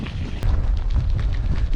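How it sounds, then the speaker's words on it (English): Heavy low-frequency wind buffeting a microphone on a canal cycling route, constant and loud with gusty rumbles, no voices. "Well, it's getting a bit windy now."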